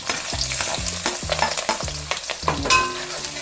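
Fenugreek seeds and spices spluttering in hot oil, a loud, close crackling sizzle with rapid popping and scraping stirs, no voices.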